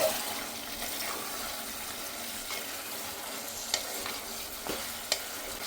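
Marinated mutton and tomatoes are stirred together as they fry in oil in a pan, a steady close sizzle with a few sharp scrapes and clinks of the spoon against the metal.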